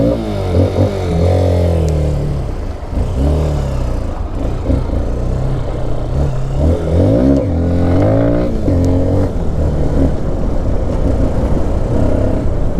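An NK 150 dirt bike engine running while ridden: a loud, close, continuous motor drone whose pitch rises and falls as the throttle changes, with no break throughout.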